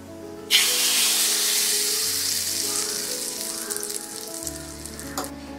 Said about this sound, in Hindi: और ये तड़का इस दाल में डालेंगे.